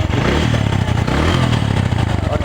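A Boxer motorcycle engine running steadily, loud and close, with a continuous mechanical clatter and a low, even throb throughout.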